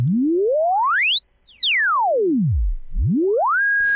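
A pure sine tone in the Native Instruments Massive synth is swept by a frequency shifter effect, rising smoothly, holding a high whistle, diving deep, then climbing again to a steady pitched tone, loud and isolated.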